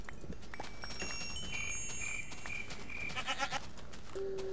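Goats bleat in a Minecraft Technic modpack game: several short synthetic bleats over a faint game backdrop, with brief tonal jingles and a sustained note near the end, no talking.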